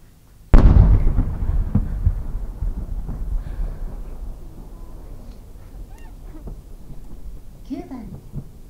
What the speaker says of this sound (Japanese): 親星と新星が五層の同心円を描く菊型花火。